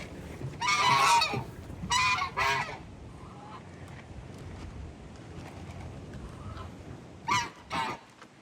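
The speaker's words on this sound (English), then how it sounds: "we've got these Chinese geese" Chinese geese honk nearby in short loud bursts, two or three calls at a time with quiet gaps between, over faint farmyard background noise.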